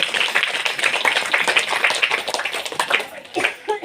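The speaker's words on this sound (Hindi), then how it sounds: "प्रभु यीशु के लिए ताली बजाकर धन्यवाद करें" A church congregation claps together in thanks during a Hindi worship service, a dense, steady patter of many hands filling the room and continuing for several seconds.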